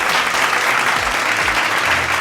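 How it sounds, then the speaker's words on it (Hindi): Loud, dense applause from an audience at a school Hindi Diwas competition results ceremony, a continuous even roar of clapping throughout. "जोरदार तालियों से उनका स्वागत करें।"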